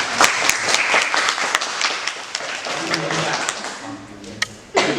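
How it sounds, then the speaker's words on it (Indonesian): Applause for group 3 in a classroom session: scattered claps from a small group, thinning out midway as voices take over and talk continues beneath the remaining taps. "Beri tepuk tangan kelompok 3."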